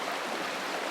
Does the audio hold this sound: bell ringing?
no